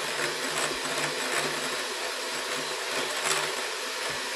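An electric mixer beats pumpkin into a nut-free, flour-free keto batter with a loud, steady motor whir that wavers slightly as the beaters move through the mix.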